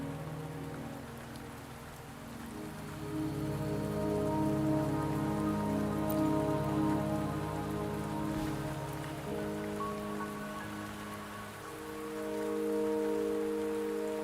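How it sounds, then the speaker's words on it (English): Steady rain in the video game Wuthering Waves pours down evenly across the whole stretch, a dense wash of drops striking surfaces with no voices, swelling slightly toward the end. "Don't worry, the rain won't last much longer."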